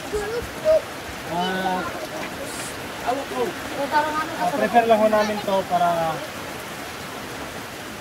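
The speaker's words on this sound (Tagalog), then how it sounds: "hindi na tayo tatantanan ng ulan." Steady rain pours down on a rural hillside settlement during a typhoon, a constant hiss running under a person speaking throughout.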